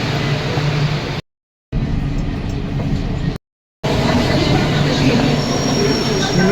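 A metro train pulling into a station, a loud continuous rumble and rolling noise with a faint high squeal, broken by two short total gaps.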